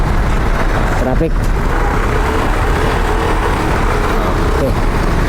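Busy city road traffic in Pasay heard from a moving motorcycle, a steady loud wash of engines and road noise close around the rider, with a voice talking over it.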